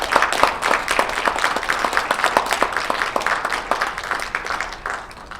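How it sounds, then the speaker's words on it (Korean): An audience at a commemoration ceremony for a book publication and the anniversary of a Korean independence declaration claps steadily for several seconds, a dense, fairly loud applause that gradually fades. "뜨거운 박수 부탁드립니다."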